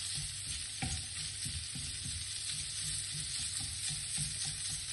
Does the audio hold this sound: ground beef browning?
yes